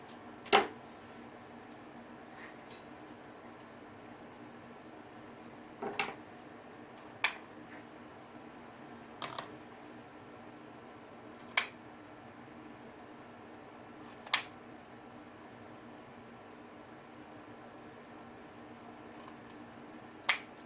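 Scissors cut ribbon stripes for a wreath, making a handful of sharp, isolated snips spaced several seconds apart over a quiet room background.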